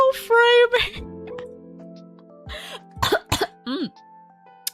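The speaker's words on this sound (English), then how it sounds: "it's been an hour and I'm already coughing" Several harsh coughs and throat clearings come in bursts, mixed with a voice and some faint background tones, close and fairly loud.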